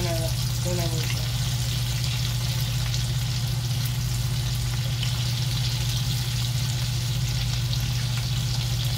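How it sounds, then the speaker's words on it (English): Potato-filled corn tacos frying in oil make a steady, loud, hissing sizzle that runs unbroken over a constant low hum. "Fry them to a golden brown, however way you want them."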